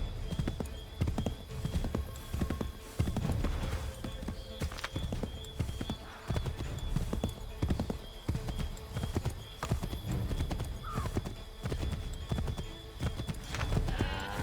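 A horse gallops across varied ground in Assassin's Creed III, its hooves pounding out a steady, fast clip-clop rhythm up close, with occasional snorts and game ambience around it.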